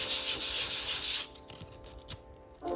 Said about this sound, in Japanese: 次にペーパーを半分に折って半分に折った角をうまくサネに入れて研磨して形を作ります